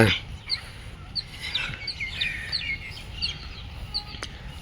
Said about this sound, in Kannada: ನೋಡ್ರಿ ಇಲ್ಲಿ ಎಲ್ಲ ಹಕ್ಕಿಗಳ